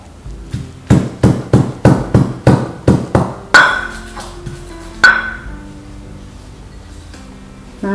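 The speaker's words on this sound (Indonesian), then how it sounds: "Kemudian kita keprek lengkuas," Galangal and lemongrass bruised with sharp repeated pounding blows, about nine evenly spaced close thuds, then two heavier ringing strikes with a metallic ping, before quiet.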